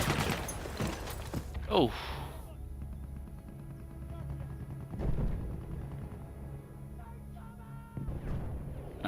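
Battlefield 1 gunfire in an Incursions match: bursts of shots and booms, some muffled, scattered across several seconds under a man's brief exclamation.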